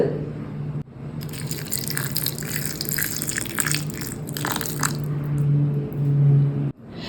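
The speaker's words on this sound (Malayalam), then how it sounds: "അപ്പോൾ ഞാൻ ഇതിലേക്ക് കുറച്ച് പാലാണ് ഒഴിച്ചു കൊടുക്കുന്നത്." Milk poured over soaked dates in a bowl for a carrot and cashew smoothie makes a steady liquid gush and splash close by, running nearly unbroken with a brief stop near the start and a sharp cutoff at the end.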